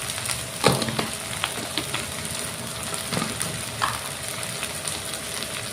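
Chili powder and spices sizzle in hot oil for a borali fish curry, a steady close-up frying hiss broken by several scraping stir strokes and light clinks.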